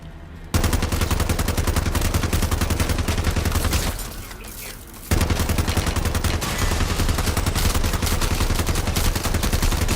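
Dense, rapid gunfire from Modern Warfare 3 Zombies pours into a disciple enemy, loud sustained bursts that pause briefly mid-clip before the shooting resumes just as heavily.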